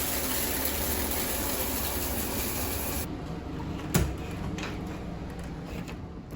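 Steady broadband rush of a shower running, constant and fairly close for the first three seconds, then dropping to a softer hiss with a brief knock partway through, no voices.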